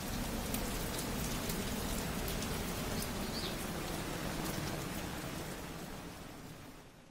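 Heavy rain falls steadily in the hills of Nainital, a dense, even hiss of downpour with no voices that fades slightly at the end.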